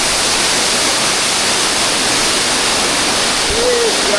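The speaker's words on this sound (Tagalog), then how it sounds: "Malakas ang hangin at ang lagaslas ng tubig mula sa falls na nagdudulot ng pag-anggi." A mountain waterfall roars in a dense, continuous wash of white noise, loud and close, with strong wind mixed into the steady rush and a brief faint voice near the end.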